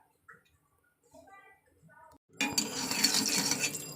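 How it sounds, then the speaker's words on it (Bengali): Dishes and utensils are washed at home: brief murmured talk comes first, then a sudden, fairly loud rush of water and scrubbing with light clinks of plates and pots close by. "থালা বাসন মাজি, তারপর কথা হচ্ছে।"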